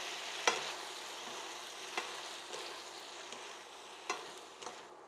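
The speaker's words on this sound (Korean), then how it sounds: "그래서 불 끄고 이제 한번 잘 섞어줍니다." Stirring stir-fried eggplant with sesame oil and sesame seeds in a pan after the heat is off, soft scraping strokes with a few distinct clacks of the utensil against the pan, faint sizzle underneath.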